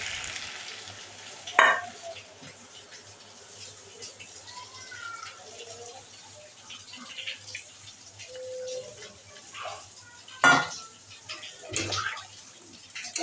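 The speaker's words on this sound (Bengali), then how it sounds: "ঝোল দিয়ে নাড়াচাড়া করে একটু গ্যাসটা জোর বাড়িয়ে দিয়েছি" Potato curry is stirred in a pan after broth is added, with soft scraping and sloshing, a few louder clanks of the utensil against the pan, and faint sizzling underneath.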